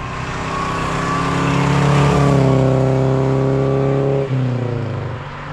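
A 1961 Pontiac Tempest with a four-cylinder engine and torque-tube transaxle drives hard through turns, its engine loud and steady, rising in pitch and then dropping sharply near the end as it shifts or lifts off the throttle.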